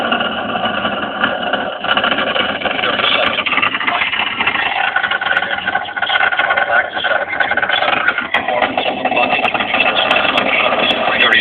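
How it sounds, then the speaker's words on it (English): Space Shuttle Endeavour's engines roar steadily during launch from a Florida launch pad, a loud, continuous rumbling blast that holds without a break, with no speech over it. "Endeavour climbs off the launch pad into a Florida blue sky headed for orbit, shaking the ground beneath my feet"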